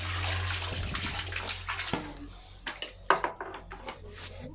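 Tap water runs steadily into a basin for washing with soap, then gives way to splashes and handling noises near the end, with a voice speaking briefly.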